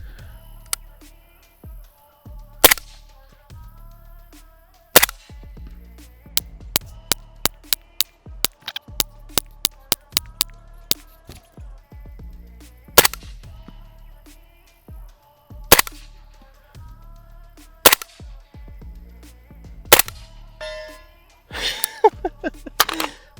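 A Sig MCX Rattler fires 220 grain subsonic rounds at steel targets, with sharp suppressed shots spaced irregularly, some quick strings, and faint metallic pings of the steel being hit.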